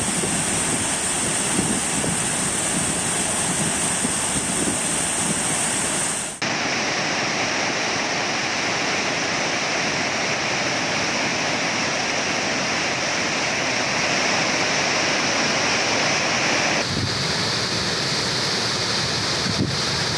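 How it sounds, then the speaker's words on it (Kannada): Heavy water released from the Narayanapur Dam into the Krishna River roars steadily, a dense, loud, continuous rushing flow with wind buffeting the microphone and no talking. "ನಾರಾಯಣಪುರ ಡ್ಯಾಂನಿಂದ ಕೃಷ್ಣಾ ನದಿಗೆ ಭಾರೀ ಪ್ರಮಾಣದ ನೀರು ಬಿಡುಗಡೆ ಮಾಡಲಾಗಿದೆ"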